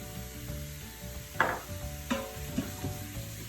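Ground turkey stirred with seasonings in an Instant Pot, a few soft scraping and sizzling strokes of a spoon against the pot, faint under a steady background hum.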